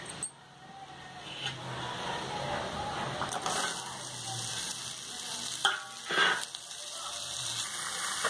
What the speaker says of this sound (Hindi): अब हम इसमें अपनी सब्जी छौंक लेते हैं।